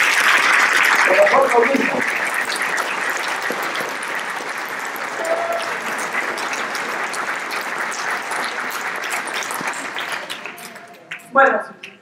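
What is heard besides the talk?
audience applause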